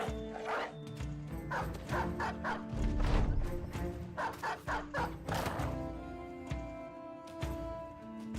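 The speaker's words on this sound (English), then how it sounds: "And let's get the dog out." A dog in the X-COM Files video game barks repeatedly in quick clusters, close and fairly loud, with a few yips among game noises.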